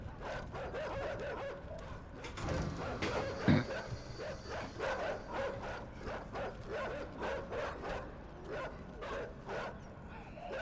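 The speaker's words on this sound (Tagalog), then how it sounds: "Gagi, may aso." Dog barking in the side-scrolling puzzle game Inside, a series of rhythmic bark-like bursts running steadily through the stretch over a noisy, dense game soundtrack, with a brief louder hit midway and some voice nearby.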